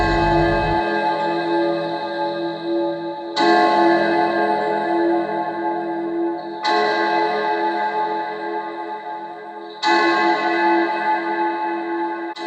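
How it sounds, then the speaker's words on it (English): A deep clock bell strikes slowly and evenly, each heavy stroke ringing out with a long shimmering decay before the next, four strokes heard loud and alone. "there were 12 strokes to be sounded by the bell of the clock"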